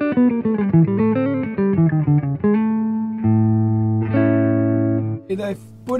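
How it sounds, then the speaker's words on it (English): Clean electric guitar played on the neck pickup in series mode, a quick melodic run of plucked notes followed by longer ringing chords, close and clear with no talk. "I want to play some clean sound with the neck pickup in series mode."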